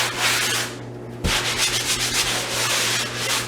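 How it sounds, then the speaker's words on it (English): Sandpaper scrapes drywall compound smooth in long, loud, close strokes. The continuous rasping pauses briefly, then resumes with a steady back-and-forth rhythm. "You want to make sure that there's no edges, so that the edges are sanded quite smooth."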